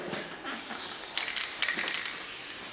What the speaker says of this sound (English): I'm going to start by spraying in the middle here